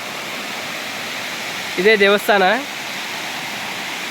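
Hosadewata waterfall near Gokarna pours with a steady, broadband rushing roar that fills the whole stretch, while a short bit of speech rises over it midway.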